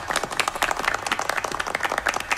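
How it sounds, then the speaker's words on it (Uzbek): A group of comrades clapping together, a dense, steady patter of many hands throughout, fairly close and alone without talk. "qani qarsak."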